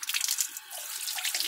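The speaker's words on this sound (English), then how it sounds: "put it in some water, and use with soap" An AirPod is washed in a small amount of soapy water, with a brief, close burst of sloshing and running liquid that pauses for a moment before resuming.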